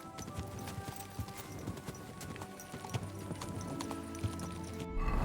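Horse hooves clip-clop steadily in the medieval video game Kingdom Come: Deliverance II, a continuous rhythmic trot over ambient outdoor noise, with no talking.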